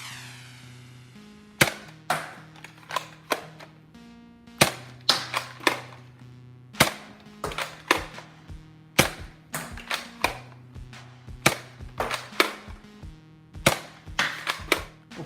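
Nerf Disruptor blaster firing Lightake Z-Head AccuStrike foam darts indoors, a series of sharp snapping shots at an irregular pace, each with a brief mechanical clack, close and loud.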